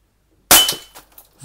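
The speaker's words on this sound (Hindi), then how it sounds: "लोड हो चुका है अब हम फायर करते हैं" Umarex Beretta Px4 air pistol shot hitting a cup, a single sharp crack and clatter close by, followed by a few short light rattles as the cup scatters, with silence before the shot.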